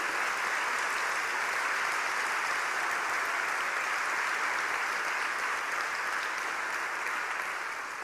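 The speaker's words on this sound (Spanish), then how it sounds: "Fuerte ese aplauso." A church congregation claps in sustained, dense applause, a steady wash of many hands that holds even throughout without a break and with no talking over it.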